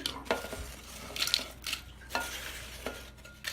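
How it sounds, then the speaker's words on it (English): Homemade multigrain nacho chips tossed with spice powders in a deep bowl, giving a steady dry rustling scrape with a few sharper clatters against the bowl, fairly close and alone. "now we have to toss it. So we have to keep it in some deep bowl"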